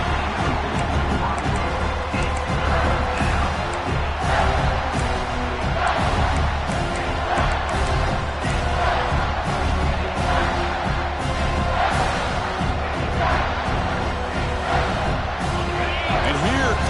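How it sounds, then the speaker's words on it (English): A dense stadium crowd at a college football game keeps up a steady roar through the whole stretch, loud and continuous, with commentators talking over it. "This crowd is trying to inspire this defense to make a big red zone stop."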